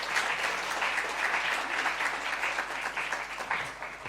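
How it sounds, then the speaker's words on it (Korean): Church congregation applauding during a Sunday worship service, a steady broad wash of many hands clapping together, fairly distant and even throughout with no talk over it. "박수로 격려하겠습니다."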